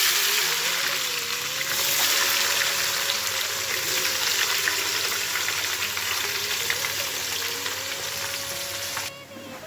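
Ghee and oil sizzle and crackle steadily in a pan, a dense continuous frying hiss that stays close and even throughout.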